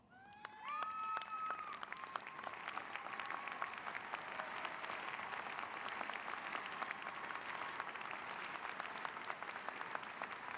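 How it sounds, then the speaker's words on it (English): A large commencement crowd at a University of Utah graduation applauds honorees, a broad sustained wave of clapping with a few faint whistles, heard from a distance in a big venue. "Would those honored please stand so we may recognize you with our applause?"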